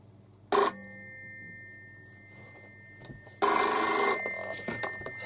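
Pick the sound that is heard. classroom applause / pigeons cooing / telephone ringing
telephone ringing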